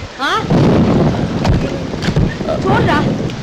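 Heavy rain pours on a leaking house in a steady, dense roar, with gusts and dull thumps, while people speak over it.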